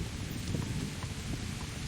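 Steady rain falling in the video game Kingdom Come Deliverance, a dense even hiss with faint low rumble, continuous and unbroken for a couple of seconds.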